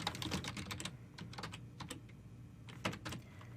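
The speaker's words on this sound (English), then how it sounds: "Let's type in physical therapy." Someone typing a search on a computer keyboard, giving a close, quick patter of clicking keystrokes in uneven clusters over a faint steady hum.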